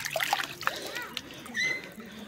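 Spring water at Namada Chilume, Devarayanadurga, splashes and trickles into a dug pit, with soft, uneven splatters and sloshes close by over a low background.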